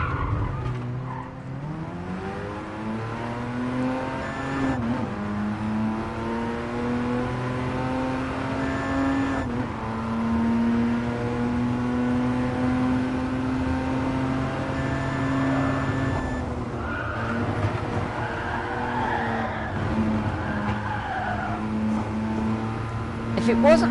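Race car engine in GT Sport, held at steady revs while cornering through a bend on full lock in PSVR, a sustained droning tone with slight pitch shifts and some tyre scrub, with a voice talking over it.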